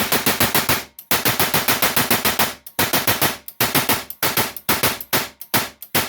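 A propane/oxygen-fired MA2 .50 cal machine gun simulator fires in repeated loud bursts of rapid sharp blasts, each burst separated by brief silent pauses.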